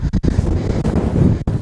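Strong wind roars at a mountain viewpoint at Mahendragiri, loud low buffeting gusts against the microphone that briefly drop out twice, with no talking.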